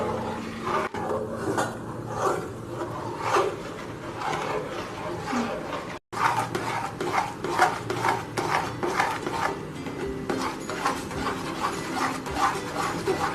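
A spoon works thick palm jaggery (karupatti) halwa around a pan with ghee, giving steady, rhythmic scraping and squelching strokes that carry on continuously, fairly close, with no speech.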